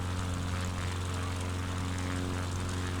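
A Cessna propeller aircraft climbing out after takeoff from a small airfield, with a steady, droning engine and propeller hum filling the cabin continuously and loudly throughout.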